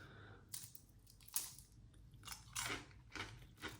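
A crunchy vegan tempura sushi roll with capsicum tempura and mango is bitten into in several crisp, separate crunches spread over a few seconds, close to the ear but quiet overall.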